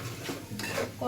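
Pounded meat bhuna is stirred in a pot, with a close scraping swish of the spoon, soft clatter against the metal and a faint sizzle beneath.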